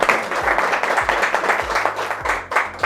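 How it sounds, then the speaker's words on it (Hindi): An audience at an AC PCB repair training institute claps steadily for a few seconds, a close burst of applause from a small group. "एक बार राजेश सर, प्रशांत सर और कुद्दू सर के लिए ताली।"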